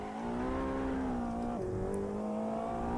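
A Ferrari 488 GTB engine holds a loud, steady high-revving drone while drifting on grippy hypercar tires in the Assetto Corsa video game, with one brief dip and rise in pitch as it shifts, close and unbroken.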